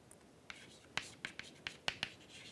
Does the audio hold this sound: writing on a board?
yes